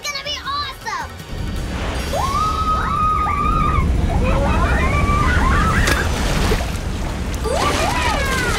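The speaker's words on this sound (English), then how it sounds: "Nazboo, why didn't you tell me about the waterfall?" Cartoon waterfall rushing as a continuous broadband roar, loud and steady throughout, with excited children's voices chattering and shouting over it.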